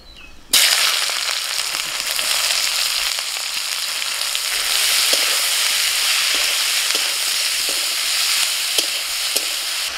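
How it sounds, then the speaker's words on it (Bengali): Onions drop into hot oil in a kadai wok and burst into a sudden loud sizzle, which then hisses steadily and up close, broken by occasional small crackles and stirring taps. "কড়ার ওই তেলে দিয়ে পেঁয়াজগুলো ভেজে নেব।"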